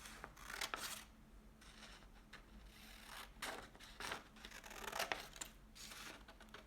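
Scissors cut along the finger tops of a pressure garment glove pattern, giving faint, intermittent snips and paper rustles in a quiet room.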